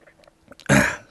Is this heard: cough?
yes